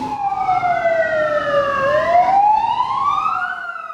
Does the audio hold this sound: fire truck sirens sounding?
yes